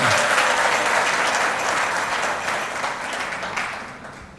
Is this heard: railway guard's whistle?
no